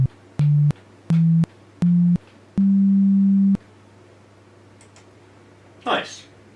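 Synthesized sine wave tones from a code-built software oscillator: four short pure, mellow beeps stepping slightly up in pitch, then a longer held tone, played alone over a low hum, followed by a brief faint rustle.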